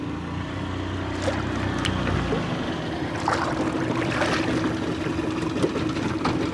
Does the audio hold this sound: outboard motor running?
yes